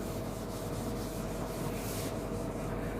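Chalk being rubbed off a board in a classroom, a steady, continuous scrubbing and rasping that holds at an even level for about three seconds with no speech.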